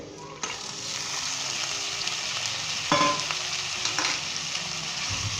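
Onions and mutton fry in a pot for Pakistani Punjabi nihari, a steady bright sizzle with occasional stirring scrapes and small bursts, close and continuous with no talking.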